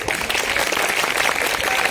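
An audience at a 75th Independence Day function bursts into dense, continuous applause for a performance, filling the space with steady clapping.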